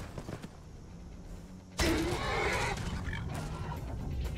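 Horse whinnying in the Skyrim video game, a sudden loud neigh that breaks in midway and fades into a drawn-out snorting whinny over a quiet game background.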